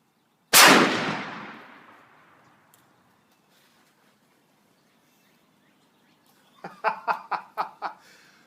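A single loud, sharp rifle shot from a Remington 700P in .300 Win Mag rings close outdoors and decays over about two seconds, then someone laughs briefly after a long quiet gap.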